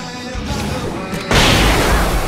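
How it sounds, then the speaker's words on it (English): A firework goes off with a sudden loud boom and crackling burst in the Alan Wake video game, the blast cutting in sharply after a stretch of noisy game ambience. "I can set off one of the fireworks from here and help you out!"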